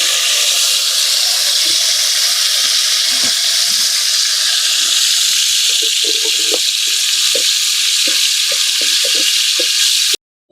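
Fish frying in hot oil in a clay pot, a loud, continuous close-up sizzle with scattered pops and crackles that runs unbroken until it cuts off at the very end, with no voices.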